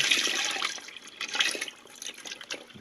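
Dissolved sugar water, three pounds of sugar in just enough water, being poured into a red wine fermenter, a splashing, trickling pour that fades and surges over a few seconds.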